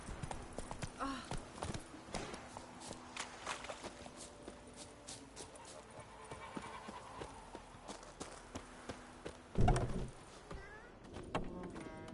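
Horse Roach's hooves clip-clop steadily at a walking pace in The Witcher 3, an even rhythm of close hoofbeats running throughout, with a louder thump near the end and a voice briefly over the top.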